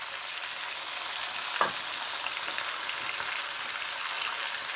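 Ground tomato added to desi chicken frying for a dhaba-style chicken curry, giving a soft, even sizzle with a few faint pops and a rain-like hiss.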